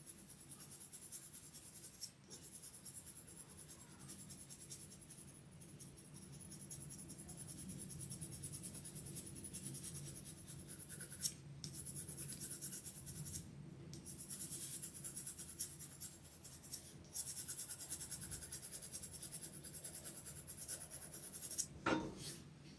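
Steady scratchy rasp of colored pencil drawing on paper, continuous soft strokes at close range with brief pauses, a faint high whine running underneath throughout.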